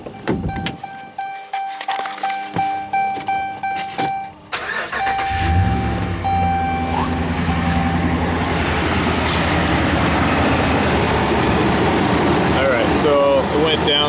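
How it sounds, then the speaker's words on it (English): A car engine is cranked during a battery and charging system test: a few seconds of rhythmic starter cranking, then the engine catches and settles into a loud, steady idle close by. "Alright, so let's do crank engine."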